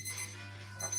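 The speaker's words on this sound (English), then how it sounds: "That's beeping already" A faint electronic kitchen timer beeping tone repeats a few times while baking bread, quiet and close, over a low steady hum.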